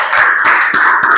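Brief burst of hands clapping in applause, a few claps heard over a loud, steady background hum.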